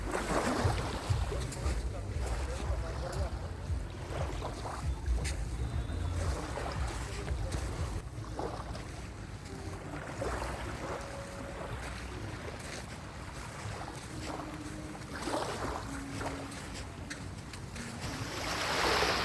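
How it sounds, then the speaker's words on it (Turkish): Sea waves wash in gently and continuously on a calm sea near the shore at Marmaris, Turkey, at sunset, a soft rolling surge with faint distant voices and occasional background noises. "Marmaris'te harika dalga sesleri."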